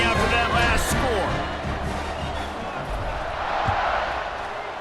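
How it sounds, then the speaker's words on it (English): Stadium crowd in College Football 26 buzzing after a touchdown, a loud sustained roar with scattered shouts and whoops, with some talk over it. "this crowd is buzzing after that last score."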